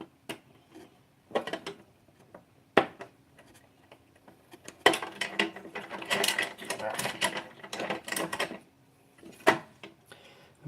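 Small metallic clicks, scrapes and ratcheting of screws being undone on an Ender 3 3D printer motherboard, quiet and close, coming in scattered bursts with a busier stretch in the middle.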